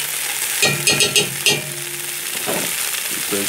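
Vegetables and juice in a Dutch oven, cooking for pepper steak, give a steady close sizzle and bubbling with a few louder stirring scrapes and clatters near the start.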